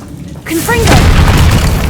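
A Confringo spell blast in the video game Hogwarts Legacy, a loud booming fiery explosion that erupts suddenly and rumbles on, heard right after a voice calls out the spell.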